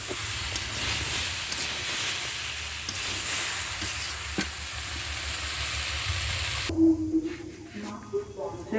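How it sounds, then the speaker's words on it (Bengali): Taro stems frying in a pan for a tengra fish curry, giving a steady broad sizzle that fills most of the clip, then cutting out near the end to a few faint clinks and movements. "দেখছেন কচু শাকের ডাঁটা কিন্তু কমে যাচ্ছে, ভেজে নিচ্ছি, জল মেরে যাচ্ছে"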